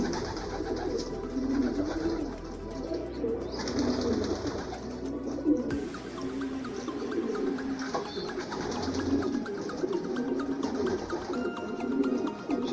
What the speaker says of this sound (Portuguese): Sem pressa nenhuma, só assistindo os pombos detonando a ração no chão aí.